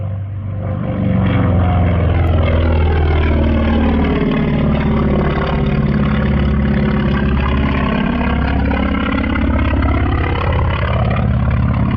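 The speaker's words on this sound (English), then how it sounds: "a beautiful demonstration flown by Bernie in the FM2 Wildcat that he had brought up from another museum for this event" A vintage FM2 Wildcat warplane flies a demonstration at a fly-in, its propeller engine droning loud and steady throughout, the pitch rising and falling as the aircraft passes overhead.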